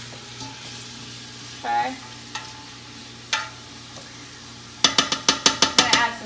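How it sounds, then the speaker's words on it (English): A utensil scrapes and taps along the bottom of a pot of turkey dumpling soup over medium heat, with a few scattered scrapes followed by a quick run of sharp rhythmic clinks; a short spoken word is heard. "I'm gonna just stir this up in the bottom of the pot here"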